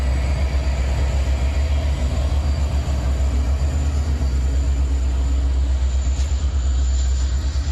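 A freight train rolls past in California, a loud, steady low rumble with a pulsing rhythm of wheels and cars that continues throughout, close by and with no talk.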